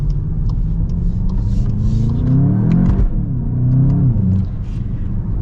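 A 2024 VW GLI accelerates hard, its engine note rising in strong surges broken by quick gear shifts, loud and close from inside the car with no talk.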